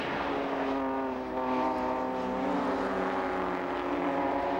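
Racing motorcycles from the 2008 PBMW race at Lydden Hill come down the hill, a steady loud engine drone with layered harmonic whine holding throughout, no voices.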